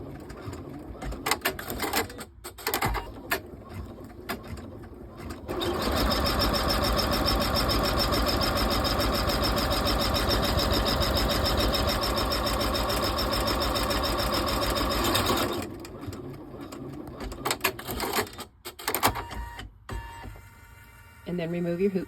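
An embroidery machine stitches a pink top stitch on a zipper purse in one steady, continuous run of fast rhythmic mechanical whirring lasting about ten seconds. Before and after it, handling noises and clatter sound, with a person talking nearby.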